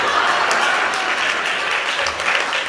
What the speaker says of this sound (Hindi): आप लोग तालियां पीटते हैं